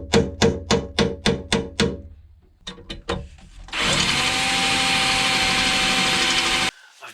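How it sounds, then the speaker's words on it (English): A series of sharp, evenly spaced hammer strikes is followed by a cordless hammer drill whining steadily for about three seconds before stopping abruptly, drilling out a broken bolt on a Webasto Thermo Top C 12V diesel water heater. "I'm now going to drill out the broken bolt."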